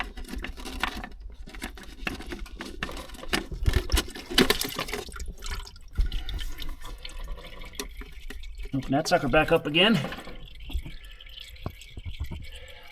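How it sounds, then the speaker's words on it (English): Fuel drips and trickles from an opened filter housing on a 2019 Ram truck during filter maintenance: scattered small drips and splashes, close and fairly soft, under someone talking throughout. "Just letting the filter drain in the housing there. Just a couple of drips and drops."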